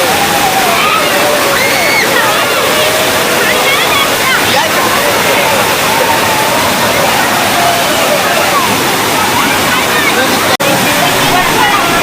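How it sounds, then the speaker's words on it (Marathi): Vanlaxmi waterfall near Vangani pours down in a loud, dense, unbroken roar of rushing water that fills the scene up close, with faint voices of visitors blended into the noise. "मस्त खतरनाक पाणी पडतं इथला"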